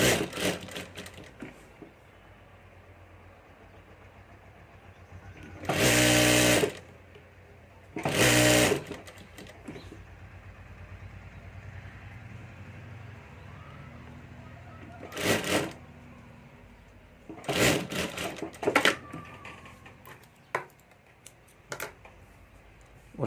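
Sewing machine stitching three stacked pockets of a handmade ladies' purse, working in several short loud bursts separated by quiet pauses and faint handling noise.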